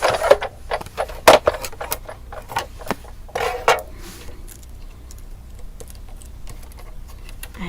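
Card runs through a die-cutting machine while cutting a frame for a mini album, making a burst of close, dry clicks and rattles that thin out to lighter ticking.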